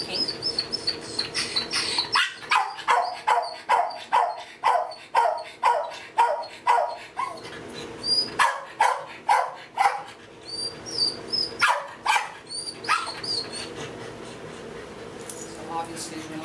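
A dog named Skylar with separation anxiety barks repeatedly in a fast, steady run of sharp, loud, close barks, then keeps up a more scattered series, while birds chirp faintly in the background.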